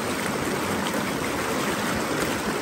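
Floodwater rushes through a devastated area in a dense, unbroken roar of churning water, loud and close, with no break over the short stretch.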